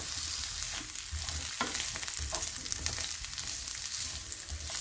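Spices frying lightly in mustard oil for Pakistani pickle, a soft continuous crackling sizzle with small stirring knocks, quiet and close, no voices.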